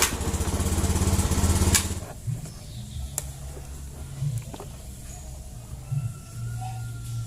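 A Honda Beat motorcycle with a dead electric starter is fired up with the kick starter, producing a loud engine burst for about two seconds before settling into a quieter, uneven low running hum.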